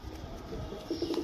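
Soft, low cooing from a female pigeon of a high-flying Andhra or Madras breed, a few quiet throaty coos over faint background noise.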